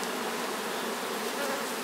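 Honey bees buzz steadily in a dense, continuous swarm drone at an Altai apiary, close and unbroken while a beekeeper works the hives.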